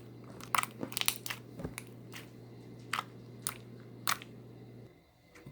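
A pet chewing up something nearby, producing a run of sharp crunching bites and crinkly snaps at irregular intervals over a steady low hum, fairly close and distinct with no talking.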